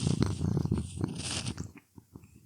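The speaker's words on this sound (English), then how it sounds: "Listen to the sound of my cat purring." A cat purrs close to the microphone, a soft low rumbling at first that fades into quieter, broken sounds toward the end.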